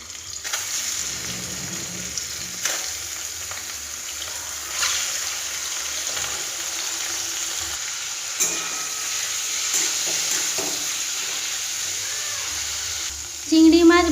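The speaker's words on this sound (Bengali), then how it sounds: "কড়াইতে তেল দেব আর চিংড়ি মাছ ভেজে ফেলব।" Bagda tiger prawns fry in mustard oil in a wok with a steady, even hiss of sizzling that lasts throughout, and a short clatter comes near the end.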